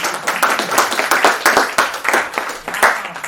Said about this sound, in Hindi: तालियां बजाकर उन्हें